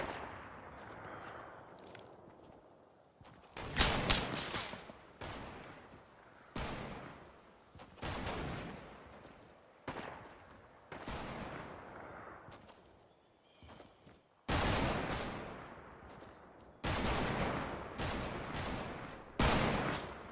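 Repeated bursts of gunfire in a sniper shootout video game, loud cracks and volleys arriving in clusters with short gaps between them, no talk over the shooting.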